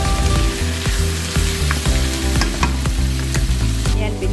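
Garlic sizzles and fries in a hot pan for pancit, browning steadily with a constant crackling hiss and occasional stirring scrapes, close up with no talking.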